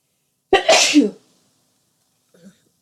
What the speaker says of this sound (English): I'm going to cover this and sneeze